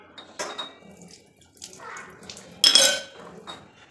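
A cooking pot is rinsed and scrubbed under water, with splashing, scraping and metallic clanks, including a sharp loud clatter of the pot near the end, heard close up in a kitchen without speech.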